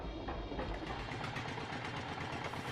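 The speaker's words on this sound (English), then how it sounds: "What if I told you that an old car engine could be transformed into a powerful saw?" An old car engine drives a homemade wood-cutting saw, giving a continuous, steady mechanical hum with a low rumble and a faint rhythmic chatter, close by and with no talking.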